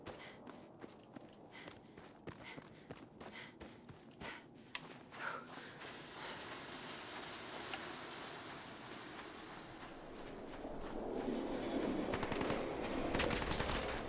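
Gunfire in the video game Fallout 4 comes as a rapid run of sharp shots and bursts, moderately loud, giving way to a denser rumbling barrage toward the end.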